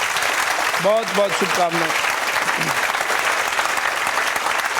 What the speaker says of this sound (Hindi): जोरदार ताली बजाओ इसके लिए।